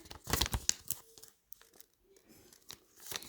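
Sharp tearing and crinkling of tape and packaging in short, close bursts, separated by quiet pauses and small handling rustles.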